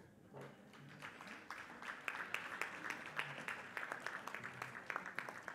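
An audience applauds at the Jamaica 55 Diaspora Conference 2017. Scattered claps swell into a steady, moderately loud round that keeps going to the end, with no voices over it.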